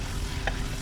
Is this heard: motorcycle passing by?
no